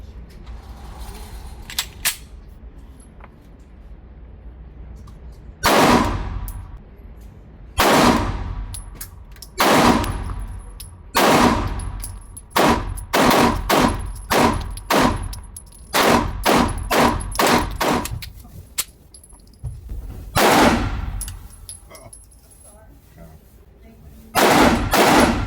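A CZ P-10 C ported pistol firing at a target on an outdoor range, loud sharp shots in irregular bursts and singles with short pauses between, a few quieter clicks and handling sounds before the first shot.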